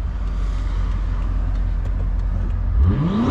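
A BMW X5M with a loud aftermarket catback exhaust rumbles at a low idle-like drone, then revs up sharply near the end with a rising, booming exhaust note, close by.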